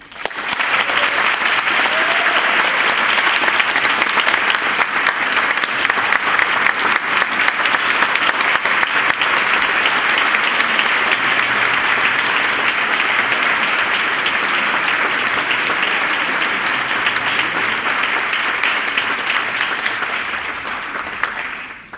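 Audience applause for marathon runner Meb Keflezighi at a UCAN event in Boston, a steady, dense clapping that fills the room from start to finish and fades slightly at the very end, with no talking over it.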